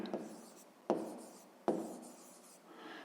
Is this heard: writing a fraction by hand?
yes